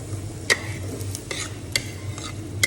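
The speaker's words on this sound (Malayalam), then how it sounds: "അതിലേക്ക് നമ്മൾ ചെറുതായി അരിഞ്ഞ ഈ ചെറുള്ളി ഇതിലേക്ക് ചേർക്കുന്നുണ്ട്." Finely chopped shallots sautéing in hot coconut oil, a low steady sizzle broken by a few sharp scrapes and clinks of a spoon stirring in the pan, with no one talking.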